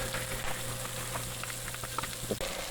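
Sausage, pepperoni and bacon fry together in a pan for supreme pizza tortellini, giving a steady close hiss with a few small pops and a utensil tap near the end.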